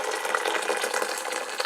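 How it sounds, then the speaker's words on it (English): Boiling water pours steadily into a container, a close, continuous splashing gurgle lasting under two seconds with no talking. "what I'm going to do is throw some boiling water in there."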